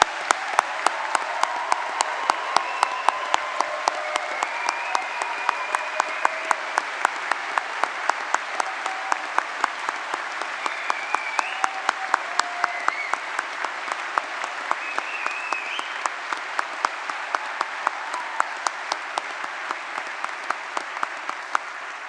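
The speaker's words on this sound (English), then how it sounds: "So let's give all our graduates a big round of applause." Sustained applause from a large audience at a university summer graduation ceremony, dense steady clapping with a few individual claps standing out, continuing unbroken for over twenty seconds without talk.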